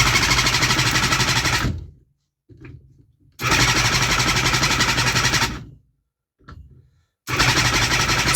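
A 3D-printed two-cylinder two-stroke engine with PZ19 carburetors is cranked without firing. Three loud, buzzing cranking bursts of about two seconds each sit close by, split by near-silent gaps with faint clicks.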